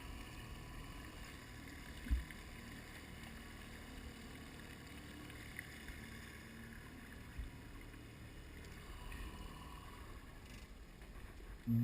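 A 1994 Alumaweld 18-foot Intruder aluminum boat motoring on open water, a steady broadband engine and hull drone with wind buffeting the microphone, constant and fairly close, with a few brief knocks and no talking.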